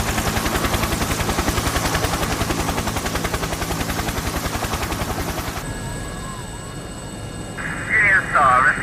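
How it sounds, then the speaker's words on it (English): A rescue helicopter over a rough sea, its rotor chopping in a loud, fast, steady rhythm that then cuts to a radio-like hiss and crackle with a brief burst of talk. "the helicopter was already on the scene"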